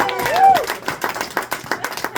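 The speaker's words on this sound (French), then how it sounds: "Non, vous applaudissez" A short burst of voice gives way to scattered, uneven clapping from a small audience in a bar comedy setting, sharp and close, thinning into sparse individual claps.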